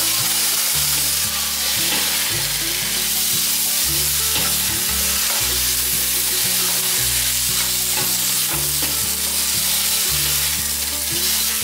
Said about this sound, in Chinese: 我大约炒了1分钟左右，可以把油豆腐放进来炒。